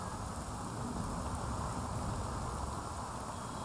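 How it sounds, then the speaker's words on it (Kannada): Heavy downpour in Bengaluru, a steady dense hiss of rain pouring continuously and evenly throughout, with no voices and no clear thunder. "ನೂರ ಹತ್ತು ಮಿಲಿಮೀಟರ್ ಧಾರಾಕಾರ ಮಳೆಯಿಂದಾಗಿ ರಾಜಧಾನಿ ತತ್ತರಿಸಿರುವುದು"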